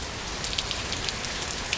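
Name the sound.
rain falling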